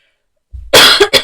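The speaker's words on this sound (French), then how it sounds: "c'est bizarre que je tousse comme ça" A woman coughs twice at close range, loud and abrupt, breaking a brief silence.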